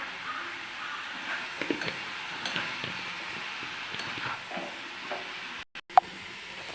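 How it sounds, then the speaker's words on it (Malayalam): A yam flower dish frying in a pan gives off a steady, close sizzling hiss as it is stirred, with soft scrapes running through it and a brief break near the end. "ആവശ്യത്തിന് ഉപ്പും ചേർത്തെടുക്കാം ഇനി നമുക്കിത് ഇളക്കാം"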